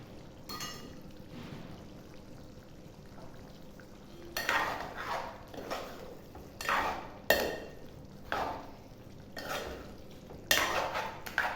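A spoon scrapes and stirs chicken curry with green chillies, chilli powder, coriander powder and cumin powder in a casserole, with quiet early stirring giving way to a run of louder, irregular scraping strokes.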